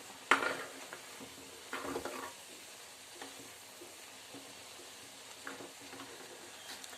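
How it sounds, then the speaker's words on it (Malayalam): Grated coconut and bitter gourd are stirred in a pan to make thoran, a spoon scraping the metal in a few soft, scattered strokes over a faint, steady sizzle, with no voices. "അതുവരെ നമ്മൾ ഇളക്കി കൊടുത്ത് ഡ്രൈ ആക്കുക"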